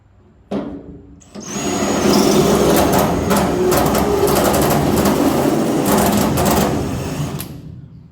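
A drill bores out spot welds on the rear quarter panel of a 1972 Chevrolet Blazer, opening with a brief tap and then a loud, steady, grinding whine that runs for about seven seconds before tapering off.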